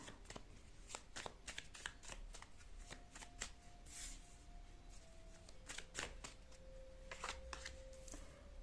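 Tarot cards being handled and drawn from a deck, a close run of crisp slaps and riffling flicks that comes in quick bursts, with no talking.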